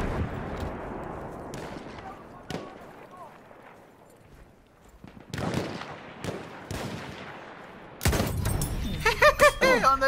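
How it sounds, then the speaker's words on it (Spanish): Enemy machine gun fire in Battlefield 1, bursts of rapid gunshots and booms breaking through wartime game noise, with a loud cluster of shots late on and voices in the mix. "¡Una ametralladora! ¡Es del enemigo!"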